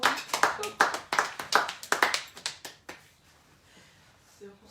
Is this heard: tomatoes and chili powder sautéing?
no